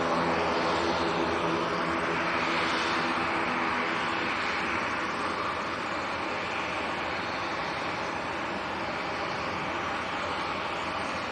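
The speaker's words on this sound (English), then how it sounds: "Aer Lingus to go next, ATR 72." Aer Lingus ATR 72 turboprop at Manchester Airport, a steady loud broadband engine roar with a droning hum, sustained throughout without speech.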